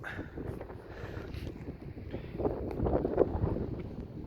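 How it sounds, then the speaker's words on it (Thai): Cold wind blows steadily across an outdoor microphone, a continuous rough buffeting rush that swells louder toward the end, with no voices heard. "โอ้ลมหนาวมาเลยพี่น้อง"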